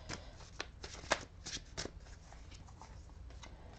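Tarot cards being shuffled and drawn by hand, a run of soft riffling flicks and snaps with one sharper card slap near the start, close and fairly quiet with no talking.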